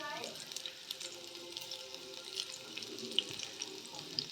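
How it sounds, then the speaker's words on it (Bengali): Ten to twelve garlic cloves fry in hot oil in a pan, a soft, steady sizzle and crackle that stays faint throughout. "রসুনগুলো আমি ভেজে নেব"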